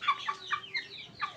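Farm roosters and chickens, around fifty days old, cluck nearby in a quick series of short calls, four or five bursts rising and falling in about a second.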